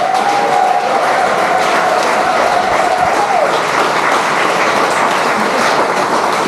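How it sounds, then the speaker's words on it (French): A church congregation applauds continuously, dense clapping filling the room while a sustained musical tone rings under the first half. "Applaudissons le Seigneur pour les musiciens et les chants."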